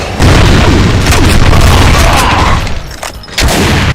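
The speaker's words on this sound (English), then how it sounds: "you can still destroy a good bunch of them with a grenade" A grenade blast in a Doom mod shooter rings out as a loud, sustained booming roar that holds for over two seconds, then dips and flares again in a short burst, with no talking.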